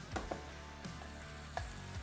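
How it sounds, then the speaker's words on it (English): Short ribs sizzle steadily while browning in a hot pan, a constant crackling hiss with a few louder pops and clinks of a utensil. "the sizzle. Love that sound."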